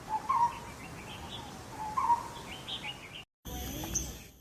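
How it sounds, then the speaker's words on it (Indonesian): Lineated barbet, known as bulltok, calling in a repeated two-part hooting note, sounding twice at moderate distance over faint background hiss, followed by a brief gap and softer chirps. "Nama bulltok, sebenarnya diambil dari suaranya yang terdengar, bultok, bultok, bultok"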